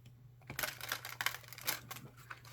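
A deck of smooth oracle cards with holographic edges is shuffled by hand: quick, crisp riffling and clicking flutters in short bursts, close and with no talking.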